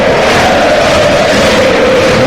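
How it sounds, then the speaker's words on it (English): Rangers fans in a packed stadium at the Eintracht Frankfurt final doing the Viking clap: a loud, sustained wall of crowd noise with a steady chanted tone running through, heard from a distance with no clear separate claps. "Rangers fans again supporting their team with the Viking clap, hands out above heads."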